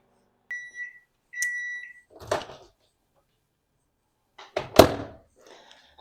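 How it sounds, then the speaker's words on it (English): A microwave oven melting chocolate chips and coconut oil beeps twice in short tones, followed by thunks of its door opening and shutting, with near silence in between. "So I'm just going to microwave it or melt it."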